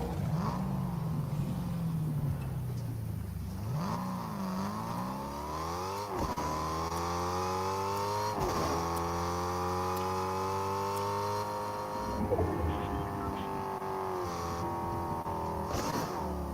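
Engine of a car being driven in the Fortnite video game drones steadily throughout, its pitch rising and falling with repeated gear shifts and revs, loud and close with no talking.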